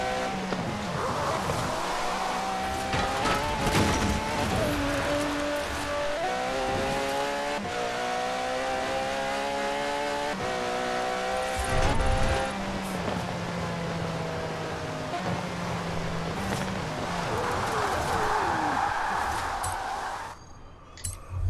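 An Aston Martin's engine drones and shifts pitch as it drives in the Forza Horizon 4 racing game, a steady sustained car sound with gear changes running throughout, with no talking.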